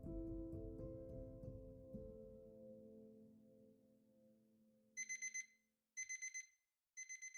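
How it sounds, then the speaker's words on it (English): Loud electronic alarm clock beeps in three short bursts of rapid pulses after a fading low tone, each burst a cluster of four bright beeps separated by brief silences. "after Laura had gone to the movies with Dan, she woke up to the loud beep of her alarm clock."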